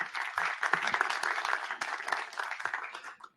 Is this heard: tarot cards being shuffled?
no